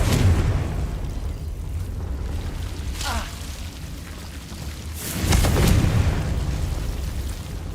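Two heavy blasts from the Confringo fire spell in the Hogwarts Legacy video game, each a loud booming burst with a crackling tail, separated by a few seconds over a steady rumbling game background.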